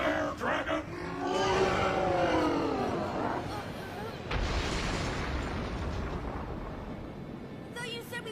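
A fiery roaring blast from the Fire Dragon Roar attack in the Fairy Tail anime, opening with a shouted cry that swells into a loud, sustained rushing roar and rumble lasting several seconds.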